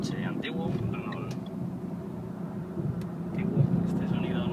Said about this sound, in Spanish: Ahora tenemos un coche antiguo, un Renault